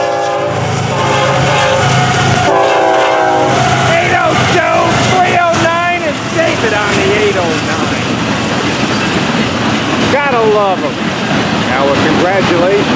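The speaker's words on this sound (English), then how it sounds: "Special train right here. This is FEC101. It's a hot train, all right." FEC101, a Florida East Coast Railway special train, rumbles past with a horn sounding early on, loud and close, while voices talk over the steady roar.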